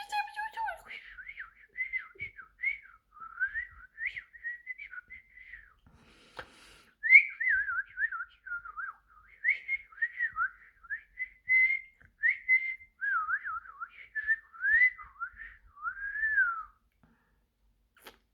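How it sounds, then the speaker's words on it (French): High, warbling chirps and trills from birds, repeating in short bursts with brief pauses, fairly clear and close with no talk over them. "Quand les oiseaux gazouillent, ils gazouillent avec amour."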